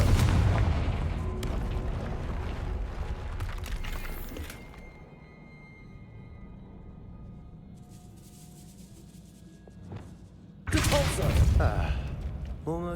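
A fiery Confringo spell blast in Hogwarts Legacy, a loud booming burst that erupts near the start and decays into quieter debris and rumble, followed later by a second sharp, loud burst near the end.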